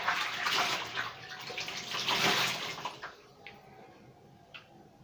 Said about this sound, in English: We are using warm water to remove all the coconut oil on your face.